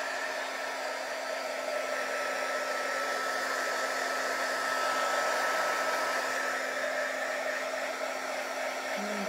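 A hair dryer blows steadily on fresh white paint on a colourful garden sign, a continuous even whirring hum with a constant motor tone, close and unbroken for the whole stretch.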